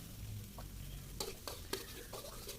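A spatula scrapes and stirs through thick siomay seasoning paste in a pan, several distinct scrapes over a steady, soft sizzle.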